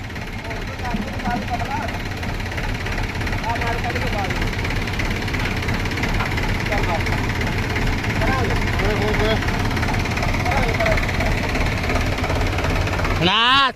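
A loud Mahindra 265 tractor engine chugs steadily at idle while the tractor is stuck, with people talking over it throughout; the rumble continues unbroken until a brief sharp noise at the very end.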